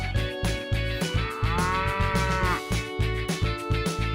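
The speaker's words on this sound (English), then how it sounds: "The cow lives in the barn." A drawn-out, low cow moo rising in the middle over a bouncy, rhythmic music backing that pulses steadily throughout.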